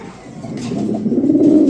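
Low, soft cooing of Turkish flying pigeons repeats steadily, growing a little louder toward the end, with no talking.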